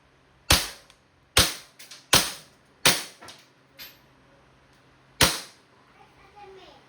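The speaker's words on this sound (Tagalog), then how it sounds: "Okay, testing po. PWC 75 airgun pistol." Five sharp shots from a KWC 75 tactical airgun pistol, each a loud crack with a short decay, spaced unevenly with a pause before the last, followed by faint mechanical clicks.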